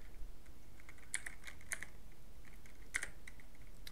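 Typing on a computer keyboard on a Windows PC, a few quiet, close key clicks in small clusters over a faint steady background hum, with no speech.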